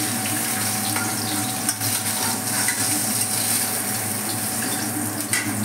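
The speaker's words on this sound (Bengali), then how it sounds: "আমি পটলগুলি একটু ভেজে নেব" Pieces of pointed gourd (patol) frying in a pan without water, stirred now and then; a steady, close sizzle carries on alone with faint scraping and small bubbling bursts.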